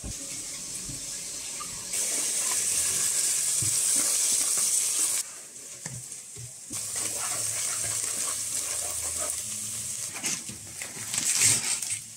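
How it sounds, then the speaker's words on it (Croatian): Meat and onion sizzle in a pan, a steady bright frying hiss that drops off for a moment and resumes, with clatters of stirring and some running-water noise in a home kitchen. "Onda se meso ispržilo, luk nam se ispržio već dovoljno da možemo da stavimo meso."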